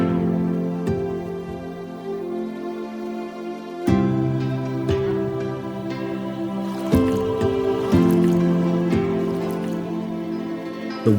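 Water trickling down the Banaue rice terraces in the Philippines, flowing from terrace to terrace for irrigation: a close, continuous drip and trickle with small splashes, heard alone and at an even level.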